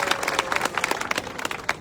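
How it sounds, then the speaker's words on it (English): A rally audience applauds, dense rapid clapping from a crowd with a few voices mixed in, steady and moderately loud throughout. "Let's give it a hand clap for Mr."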